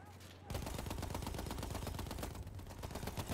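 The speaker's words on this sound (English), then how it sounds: "Oh, I'm getting shot." Rapid automatic gunfire in the shooter game Battlefield 1, a dense continuous burst of shots starting abruptly and running nearly unbroken to the end, loud and close.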